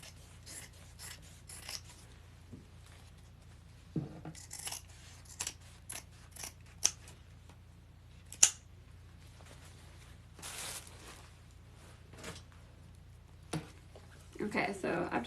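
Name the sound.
scissors cutting fabric lining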